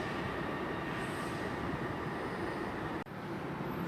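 A Class 800 unit, 800 007, pulls out of London Paddington on an empty stock move to the depot, a steady broadband engine and rail roar with a brief dip near the end.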